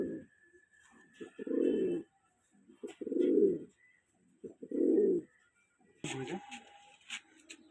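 Andhra Kalanka pigeons coo close by in a steady rhythm of four or five low, rolling coos spaced a second or two apart, followed by soft clicks and shuffling.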